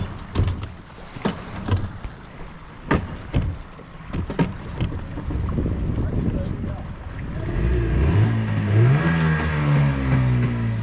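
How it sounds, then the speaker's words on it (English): Sharp knocking clicks and sputters come first, then a cold boat engine rumbles into a rising, revving drone that grows louder toward the end. "Still waiting for the boat to heat up. I think the engine is a bit cold"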